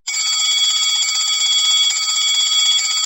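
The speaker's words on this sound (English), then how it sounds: "On pressing the switch, you will be able to hear the bell ringing." An electric bell rings continuously inside a bell jar, a loud, bright, rapid metallic clatter that starts abruptly and holds steady to the end, with nothing else audible.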